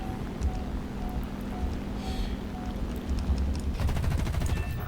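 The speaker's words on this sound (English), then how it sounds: "These are the Japanese 20mm cannons. I believe they're the HO5s, and they are wildly inconsistent." Japanese 20mm Ho-5 aircraft cannons firing in the War Thunder game, with a rapid rattling burst of shots over steady wind and engine drone, growing denser toward the end.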